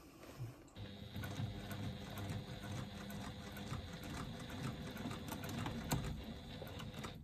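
A Juki sewing machine stitches a bag, lining and exterior being joined, with a steady, even mechanical whir and rapid needle clatter running continuously and close up, no talking.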